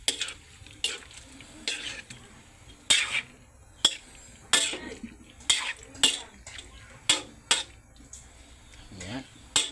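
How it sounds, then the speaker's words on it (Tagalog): Ginataang langka, jackfruit in coconut milk, stirred in a cooking pot, with repeated scraping and sloshing strokes in an uneven rhythm, close and fairly quiet, and a voice faintly underneath. "haluin po natin"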